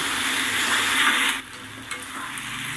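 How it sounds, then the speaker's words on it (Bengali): Potatoes fry in a spice paste of ground green chillies as they are stirred, a loud steady sizzle that drops suddenly and continues softer with light scraping. "আলুগুলোকে মশলার মধ্যে দিয়ে সুন্দর করে নেড়ে চেড়ে কষিয়ে নেব"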